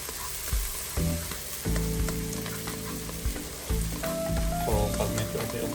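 Garlic and onion sizzle and fry in a hot pan, a steady crackling hiss with occasional stirring knocks, close and loud with no talking.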